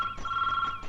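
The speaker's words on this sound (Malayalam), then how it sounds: "ഫോൺ ബെല്ലടിക്കുന്നു." A telephone rings with a steady electronic trill in a film scene, a short, clear, close ring that pauses briefly and starts again, with no voices.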